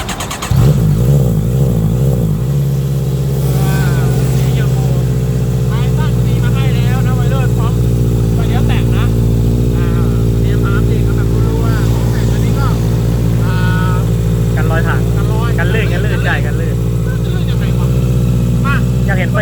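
A Honda CB650F motorcycle engine idles steadily up close with repeated throttle blips revving it higher, while people talk over the running engine.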